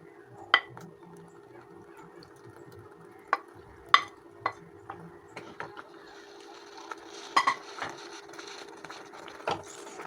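Paneer being stirred into a spinach curry in a pan, with scattered sharp clicks and scrapes of a spoon against the pan over a soft, steady low hum, close by and with no talking.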